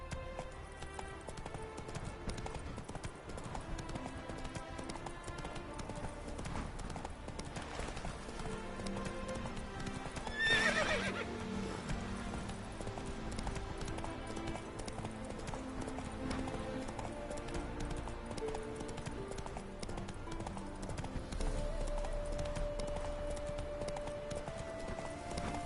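Roach, the horse in The Witcher 3, gallops with rapid, steady clip-clop hoofbeats under game music and ambient sound, lasting throughout, with a brief louder swell near the middle.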